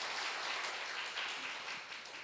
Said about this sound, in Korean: 우리 찬양팀에서 힘차게 격려의 박수 한번 해주시기 바랍니다.